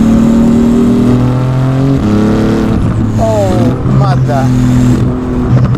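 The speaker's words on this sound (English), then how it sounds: "Listen to that exhaust." A Porsche GT2 RS tuned past 1000 hp revs loudly on a German road, a deep droning exhaust rising and falling through gear changes with a few rapid pitch sweeps, while a person exclaims over it.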